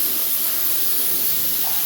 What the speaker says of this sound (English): I'm not going to video the entire thing of me spraying them